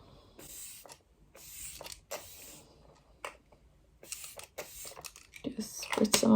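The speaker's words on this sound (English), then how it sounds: "And then I like to take some setting spray." Glow Setter makeup setting spray is misted onto a face in several short, hissing pumps close to the microphone, separated by quiet gaps, with soft rustling between them.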